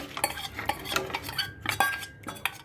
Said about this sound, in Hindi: तो अब जब तक इसमें बहुत अच्छे से उबाल नहीं आ जाता तब तक हमें इसे लगातार चलाना पड़ेगा।